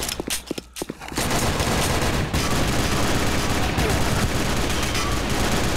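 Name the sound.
gunfire in a video game shooter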